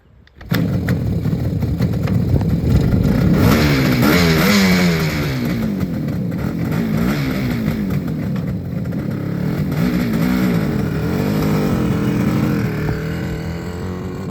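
A 1979 Yamaha RD400 Daytona Special motorcycle fires up abruptly and runs loud and close, its two-stroke engine droning and revving steadily as it pulls away, holding a strong continuous roar for the whole stretch.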